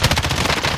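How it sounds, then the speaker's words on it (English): Rapid automatic gunfire in a battle royale video game, a fast burst of about eight close, loud shots in quick succession over less than a second. "Taking fire!"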